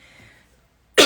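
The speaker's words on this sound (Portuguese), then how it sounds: "Perdão pela tosse." A single sharp, close cough bursts out at the end after near silence, following a faint trailing tone.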